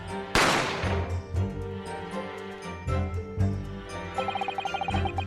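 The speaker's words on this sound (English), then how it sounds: "a gunshot rang in my ears." A single sharp gunshot effect from the video game The Great Ace Attorney Chronicles bursts out loudly near the start, ringing off over game music, with a light jingling pattern toward the end.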